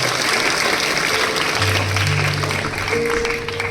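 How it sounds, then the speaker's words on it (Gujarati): An audience at a school investiture ceremony claps loudly and steadily, a dense wash of applause that holds strong throughout with a few voices mixed in. "એમના માટે જોરદાર તાળીઓ થઈ જાય."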